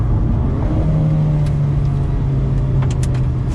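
An Alfa Romeo 4C accelerates hard down an empty runway. The close, loud engine drones steadily from inside the car, with a few brief clicks near the end.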